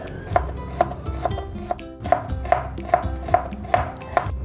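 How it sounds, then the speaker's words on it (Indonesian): Knife chopping shallots on a cutting board, with about ten crisp, evenly spaced knocks and sharp near thuds and no talk. "Pertama kita potong dulu bawang merah."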